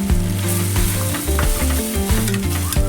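Spiced mixture for tur dal curry sautéing over lowered heat: a loud, continuous sizzle and frying crackle with repeated stirring scrapes against the pan, close and alone.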